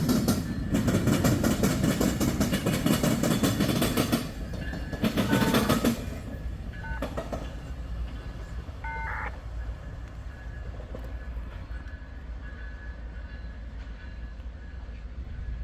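A freight train rolls past near Attica Junction, loud and rumbling up close with rhythmic clatter, then fading into a lower steady rumble as it moves away, with no voices.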